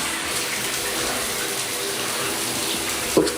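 Water gushes steadily from a hotel suite bathtub faucet at the Rio Las Vegas, a strong, even rushing stream close by, with a brief knock near the end.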